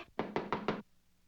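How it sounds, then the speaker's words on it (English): Four quick, loud knocks on a door in a Rocky and Bullwinkle cartoon, evenly spaced and close, followed by quiet. "Just then there was a knock"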